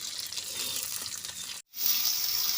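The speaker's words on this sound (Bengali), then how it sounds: "এবার আলুটা তেলে ভাজছি" Potatoes frying in hot oil give off a steady, bright sizzle, interrupted by a brief silent gap before the sizzle resumes just as strongly.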